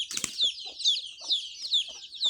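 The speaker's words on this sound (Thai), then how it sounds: "ไก่น้อยก็เริ่มหลายแล้ว" Young chicks and chickens on a farm in the early morning give a run of high, thin peeps roughly every half second, mixed with a few lower clucks, fairly quiet and close.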